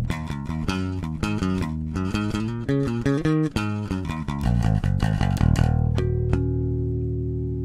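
Fender Jazz Bass with active electronics played through a completely clean signal, a run of quick plucked notes in a steady busy rhythm, then a few sustained notes ringing out and fading, close and alone with no talk.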